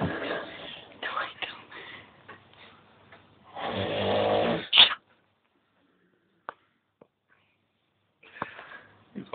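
A sleeping man snores loudly and close by in a run of rough, rasping breaths, then goes almost silent apart from a few faint stirrings before one more snore starts.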